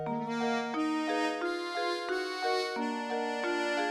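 Background music for a mysterious town in a Professor Layton video game: sustained, reedy, harmonic instrument tones shift through a slow melodic line as a continuous bed, with no talking.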